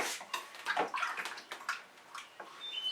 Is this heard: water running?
yes